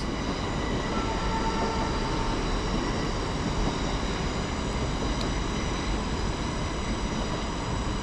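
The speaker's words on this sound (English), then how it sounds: "there's a train going over our heads." Train rolling across a railway bridge directly overhead beside the River Irwell in Manchester, a loud, continuous rumble of wheels and carriages with a faint squeal, steady throughout and alone without speech.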